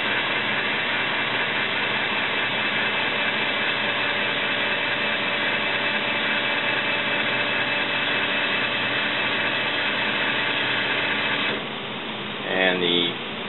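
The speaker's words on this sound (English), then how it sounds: "Now we're going to put power to pins 1 and 3, and as you will notice, the valve will move to position 2" An Indelac electric actuator drives a 5-way ball valve to position 2, giving a steady, close motor hum with a faint tonal whine that runs for about eleven seconds, then cuts off, followed by a few small clicks.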